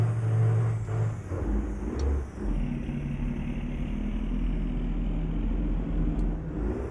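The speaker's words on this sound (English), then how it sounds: "in terms of spec of the truck, we are running the Mack R700" A Mack R700 truck with a 470 horsepower engine in a trucking video game rumbles steadily at a low, constant drone, loud and continuous throughout with no voices.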